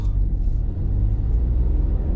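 A driving-lesson car pulls away from a mini roundabout in Bangor, its engine a steady loud low rumble heard from inside the cabin, with no talking.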